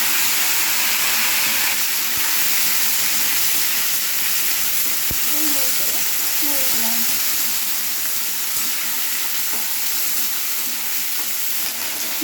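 Chickpeas that were drained earlier tip into hot oil with a few green chillies, giving a steady hiss and sizzle throughout, with a few faint clinks partway through.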